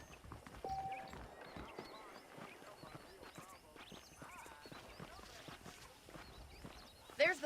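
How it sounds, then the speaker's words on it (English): Horse hooves clip-clop at a steady walking rhythm in the Red Dead Redemption video game, soft and close, while people talk over them throughout. "I picked out a fine horse for you."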